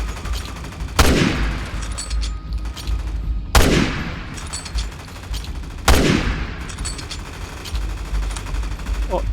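Gunfire rings out at a boss in Resident Evil 6, three loud, heavy shots spaced a couple of seconds apart, each with a booming tail, over constant game noise and faint chatter.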